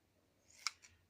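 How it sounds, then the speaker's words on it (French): Scissors snip through scraps of tulle lace, a single crisp cut followed by a softer second snip, close and quiet against a near-silent room. "soit vous prenez vos ciseaux normaux, soit vos ciseaux crantés aussi"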